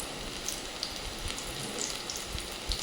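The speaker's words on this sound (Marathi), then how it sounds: "कांदा पिठामध्ये पटापट काढून आपण आता पटकन कढईमध्ये टाकून पटापट तळून घेतो आहे" Onion bhaji in gram-flour batter frying in oil in a kadhai, a steady bright sizzle with scattered crackling pops, close and continuous with no talk.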